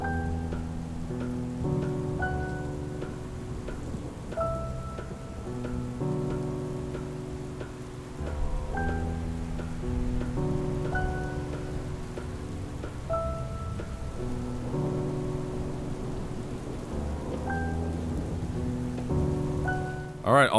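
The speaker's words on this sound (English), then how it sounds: "It's raining and sad piano music has started." Rain patters steadily in the My Friendly Neighborhood game, a faint, even hiss running under slow, sad piano music for about twenty seconds.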